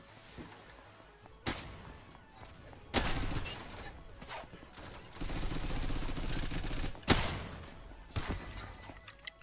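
Gunfire in the Roblox game Ragdoll Universe comes in sharp cracks and several sustained bursts, loud and close, separated by brief lulls.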